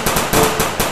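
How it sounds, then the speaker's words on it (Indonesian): A toy assault rifle firing in a rapid burst, several loud, close, clacking pops in quick succession within about a second, with no talking. "yang ini senapan serbu"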